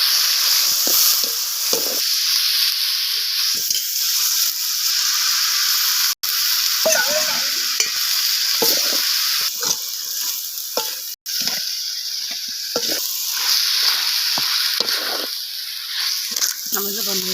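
Chicken sizzles and fries in a pan while a gravy for biryani is being cooked, a constant loud hiss with occasional stirring scrapes and pops, and a voice speaks over it.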